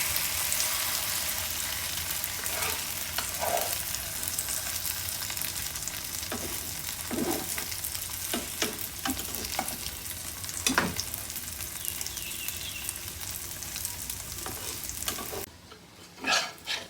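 Okra chops sizzle steadily in hot oil as they are flipped, with scattered clinks and scrapes from the utensil over the continuous frying hiss.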